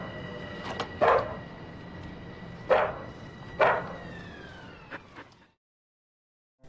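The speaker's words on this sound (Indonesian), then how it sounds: "Namun Hachi terus menggonggong seolah melarang Parker untuk pergi." Several sharp dog barks spaced irregularly over a steady tonal hum, then the sound cuts off to silence.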